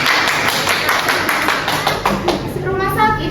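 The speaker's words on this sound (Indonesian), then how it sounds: "Tepuk tangan dong." Children in a classroom clap their hands in a quick, uneven burst of taps close by, while voices chatter over the clapping throughout.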